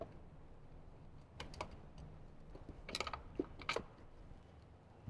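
A hand tool works loose the 3/16 bolts holding the factory head unit of a 2014-or-later Harley-Davidson Touring motorcycle, giving faint close ratcheting clicks and small metallic ticks in short bursts, with no talking.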